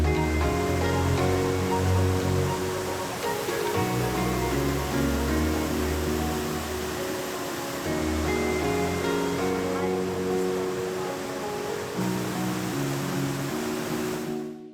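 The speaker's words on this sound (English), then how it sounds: "The next stop you'll come to is the beautiful Mariposa waterfall, which flows into a gorgeous aqua blue pool below." Mariposa waterfall at El Chiflon in Chiapas, Mexico, pouring into an aqua blue pool, a steady broad rush of falling water heard under music throughout.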